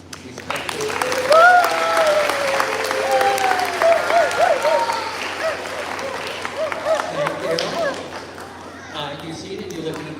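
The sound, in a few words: audience practicing respectful applause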